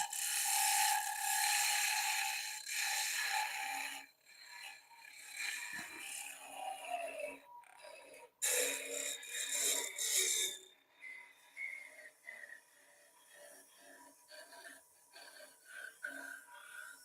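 Honed woodturning tool cutting spinning wood on a lathe, a rough scraping and rasping hiss up close that surges and fades as the edge is run along the piece.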